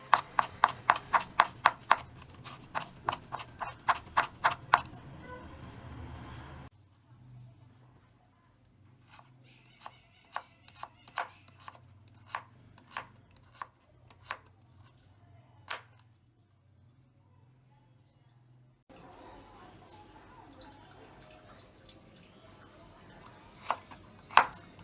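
Pestle pounding lemongrass, kaffir lime leaves, garlic, galangal, turmeric and Chinese ginger into paste in a mortar, sharp close thuds in rapid bursts, then slower spaced strikes, then a faster run.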